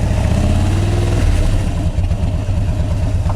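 A motorcycle engine runs loud and close, a steady low throbbing idle with a slight dip and recovery partway through.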